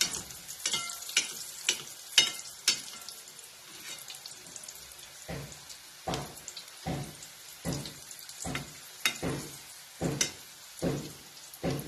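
Mini potato rolls deep frying in oil, with a steady bubbling sizzle broken by a regular series of sharp stirring or utensil knocks, close and moderately loud, with no talking.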